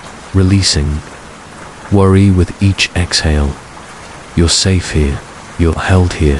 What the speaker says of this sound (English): The rain you're hearing isn't just water falling from the sky.